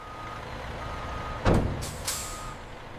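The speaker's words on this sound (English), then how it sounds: "The Anaconda meat truck reaches the intake bay for controlled unloading." A meat truck pulling into a factory intake bay for unloading, with a steady idling engine, a sharp air brake hiss burst and a second shorter release, close and loud, no voices.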